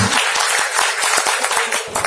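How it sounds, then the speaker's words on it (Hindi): Audience applause at the B R Ambedkar Gaurav Awards 2023 ceremony: a dense, continuous crowd of clapping hands, loud and close, with sharp claps standing out through the steady wash for about two seconds. "सब जो जोरदार तालियां।"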